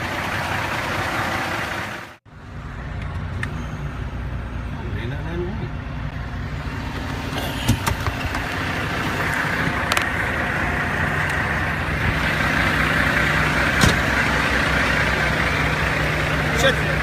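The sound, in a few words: truck engine idling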